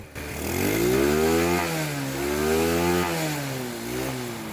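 A Rusi 110 motorcycle engine runs with its charger (regulator) removed, a close, steady mid-pitched drone that revs up and eases back in a few gentle swells, with no talking.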